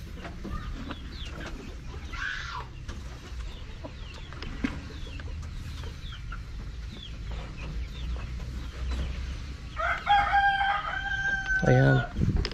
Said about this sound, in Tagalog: So ito na yung mga decal brown ko na na breeder.